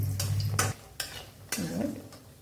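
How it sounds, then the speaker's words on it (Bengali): Bori, small sun-dried lentil dumplings, frying in oil in a pan, with a soft sizzle broken by several sharp scrapes and knocks of a spatula stirring against the metal, heard up close. "বড়িটা একটু ভেজে নিই"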